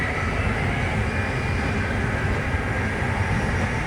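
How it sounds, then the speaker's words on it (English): A Next Gen Acela train runs past on the Washington–Boston line, a steady loud rumble and rushing roar that holds evenly without letup, heard from aboard another train. "there's Amtrak's newest sensation, the Next Gen Acela, train"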